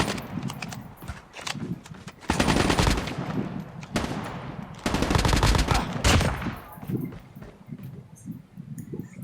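Gunfire in the mobile shooter Call of Duty Mobile, solo against a squad: loud bursts of rapid automatic fire in two main volleys with scattered single shots and quieter gaps between.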